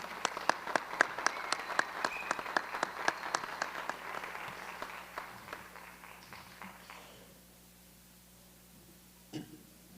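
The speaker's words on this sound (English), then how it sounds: "Please give a round of applause for the 2024 Apex winner for Volunteer of the Year, Jessica Davies" Audience applause at the Canyons School District 2024 APEX Awards ceremony for the Volunteer of the Year winner, loud dense clapping with sharp claps that thins and fades over several seconds, leaving a quiet room.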